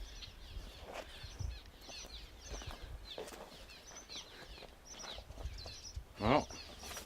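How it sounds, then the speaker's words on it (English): Scattered bird chirps and calls fill the air around an abandoned old homestead, faint and steady, with one louder, closer call near the end and light rustling underneath. "The birds here are crazy."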